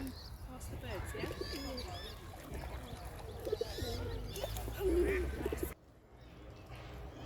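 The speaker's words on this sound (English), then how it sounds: "Try to aim past the birds" Quiet outdoor bird sounds by a lake with goslings and coots nearby, soft chirps and cooing over steady background noise, ending abruptly.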